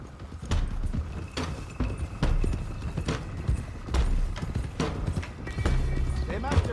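Horses galloping in the Red Dead Redemption 2 western video game, a steady rhythmic clip-clop of several hooves going on throughout, with a brief whinny and voices talking over it.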